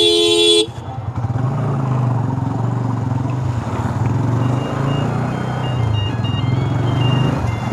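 A Bajaj NS200 motorcycle fitted with a loud exhaust, stopped by police, runs close and loud with a steady engine drone and rumble after a brief horn toot at the start.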